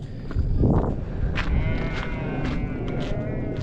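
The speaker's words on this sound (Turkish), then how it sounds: "Koyunları buraya getirdik." Several sheep bleat in a crowded pen, overlapping calls near and farther off above a low background murmur.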